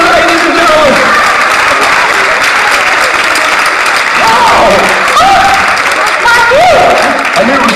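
An audience breaks into loud, sustained clapping and cheering at a mentalism show, dense and close for several seconds with a few whoops rising over it.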